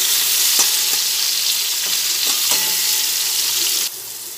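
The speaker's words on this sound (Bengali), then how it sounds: "ভালোভাবে নাড়াচাড়া করতে করতে কুমড়োটা ভাজা হয়ে যাচ্ছে।" Pumpkin pieces fry in oil in a pan while being stirred, a continuous close sizzle broken by occasional scraping knocks of the spatula, the hiss dropping slightly near the end.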